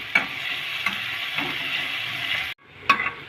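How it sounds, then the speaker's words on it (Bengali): Chopped ginger and garlic frying in hot oil, a continuous bright sizzle with a few spatula scrapes, cutting out briefly before the frying hiss resumes more quietly. "এগুলো একটু লাল করে ভেজে নেব।"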